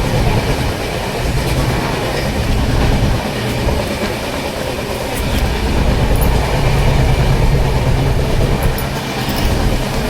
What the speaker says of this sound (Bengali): দেখো তো এই যে মাত্রই ট্রেন উঠেছে